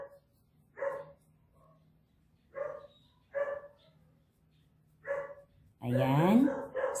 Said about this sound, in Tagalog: Nagsasaya ang mga aso.